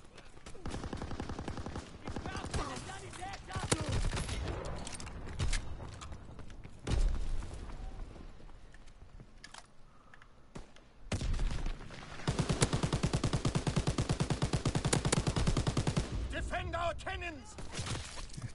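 A PPSh submachine gun in a WW2 video game firing long rapid bursts, with dense loud rattling volleys separated by brief pauses, plus other game noise.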